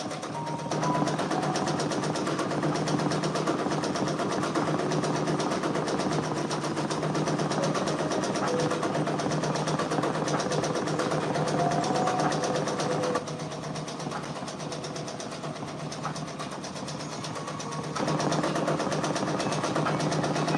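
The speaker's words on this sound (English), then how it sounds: "We are stitching out a Drake patch for one of our Etsy customers" An embroidery machine stitching a Drake patch runs with a continuous, even mechanical whir and rapid needle rhythm, close and steady, dipping slightly in level partway through before resuming.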